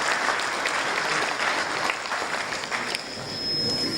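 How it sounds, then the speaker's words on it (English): Audience at a Kaduna Polytechnic science and technology discourse applauding steadily, a dense, loud wash of clapping that holds for the whole stretch with only slight dips in strength. "So let's give him another round of applause,"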